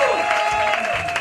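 A church congregation breaks into broad, sustained applause during a worship service, a dense even wash of clapping that holds steady throughout with a faint sustained tone beneath.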